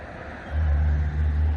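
Cars on a busy country road: a low steady rumble of passing traffic swells up partway through and holds, close and fairly loud, with no voices.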